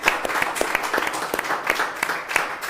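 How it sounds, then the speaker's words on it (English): A seated audience applauds at a chess tournament celebration, with a steady wash of many hands clapping at moderate volume, sharp individual claps standing out here and there, and no talk over it. "he deserves a massive round of applause"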